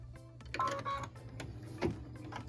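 Sewing machine stitching the tack-down line on a pieced quilt block, a steady close mechanical whirr with a few sharper clicks and knocks over a constant low motor hum.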